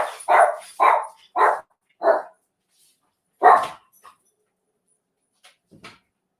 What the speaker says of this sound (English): I'm going to let my dog out, so hold on just a second.